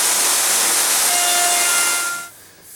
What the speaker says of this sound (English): The router just slides along it nice and smoothly.